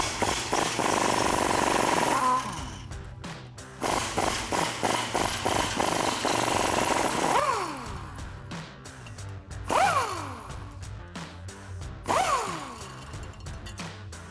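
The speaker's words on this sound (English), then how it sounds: "we'll be using our 19mm socket to take those nuts off" Impact wrench spinning off U-bolt nuts with a 19mm socket under the rear of a Toyota Tundra, in several loud rattling bursts with short gaps and brief pitch sweeps as each nut frees, close up.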